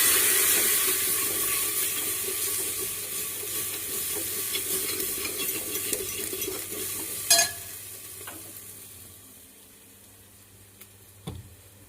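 Turmeric and chili spices fry in oil in a pan, a busy sizzle with spoon stirring and scraping that gradually fades quieter, punctuated by a few clinks, no one talking.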